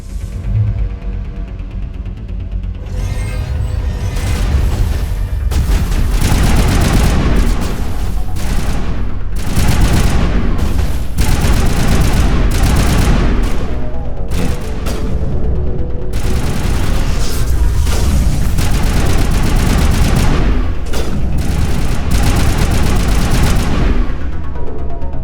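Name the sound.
assault rifle gunfire in video game Mass Effect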